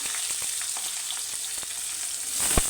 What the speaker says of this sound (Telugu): ఆయిల్ వేడైందండి కొద్దిగా జీలకర్ర అవి కొంచెం వేసుకొని నెక్స్ట్ ఒక పచ్చిమిర్చి ఆనియన్